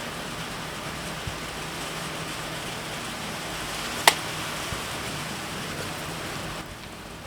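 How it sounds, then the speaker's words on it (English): Rain falling outdoors makes a steady, even hiss across the clip with a single sharp click near the middle, and no voices. "it's starting to rain and the camera's out in the rain"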